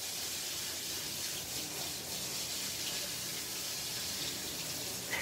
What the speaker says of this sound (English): So I'm just going to give them a quick rinse.